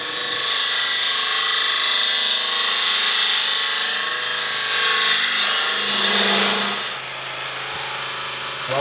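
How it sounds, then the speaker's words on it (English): A wood lathe spins a natural-edge bowl while a skew chisel cuts an undercut, making a loud, continuous droning hum with scraping cutting noise close by throughout. "I'm going to use the skew chisel to cut an undercut so that it will fit snugly into the jig"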